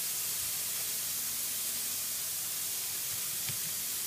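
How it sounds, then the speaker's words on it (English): Chicken browning in a frying pan, a steady, soft, continuous sizzle and hiss with no breaks, fairly faint and heard alone. "that's the chicken browned quite nicely. Here it sizzling."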